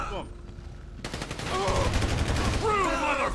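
Gunfire in GTA V rattles in a quick run of sharp repeated shots after a short quiet start, the bursts steady and loud with tonal game sounds mixed in, while someone talks over it.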